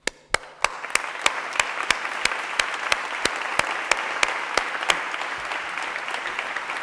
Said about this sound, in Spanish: pido también un fuerte aplauso para los verdaderos graduados de esta tarde